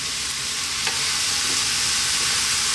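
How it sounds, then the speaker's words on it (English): Chickpeas fry and get stirred in a pan for fried rice, giving a steady, close sizzle with faint scraping throughout and no talking. "Now we're going to add in our chickpeas."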